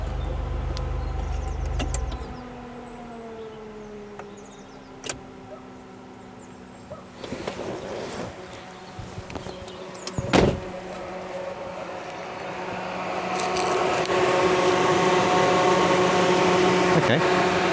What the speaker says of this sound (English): Why is the cooling fan running constantly?